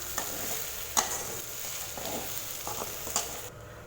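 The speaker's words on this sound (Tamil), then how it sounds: "கத்திரிக்காய் பார்த்திங்கன்னா நல்லா மசாலாவோட பார்த்திங்கன்னா நல்லா ஃப்ரை ஆகிடுச்சு" Brinjal (eggplant) frying in a pan with masala, a steady soft sizzle with a few scraping stirs, fairly quiet and close, then cutting off near the end as the stove is switched off.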